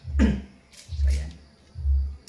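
A person coughs three times in short, separate bursts, each a deep, close, chesty hack with a breathy catch at the start.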